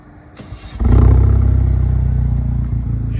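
Alfa Romeo Giulia sports sedan with an aftermarket exhaust starting up: a click and starter crank, then a loud deep bark as the engine catches and settles into a rumbling, throbbing idle close by.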